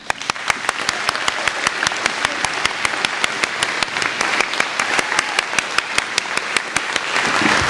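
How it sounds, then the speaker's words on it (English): An audience at an annual town meeting breaks into sustained applause: dense, steady hand-clapping fills the room at an even level, close and loud, with no voices over it. "I would love for everyone to give a massive round of applause to Mr. Shea."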